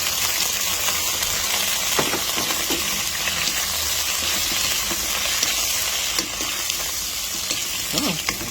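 Shrimp frying in a pan with onion and garlic, a steady close sizzle and hiss with occasional stirring scrapes and pops throughout.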